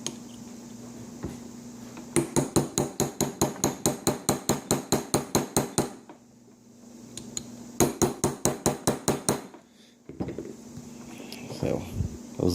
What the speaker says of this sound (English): I'm going to take a pin punch on this pin, so that way when I'm hammering on down